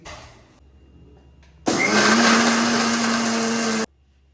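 A mixer grinder switches on abruptly and runs loudly with a steady high whirring hum for about two seconds, then stops.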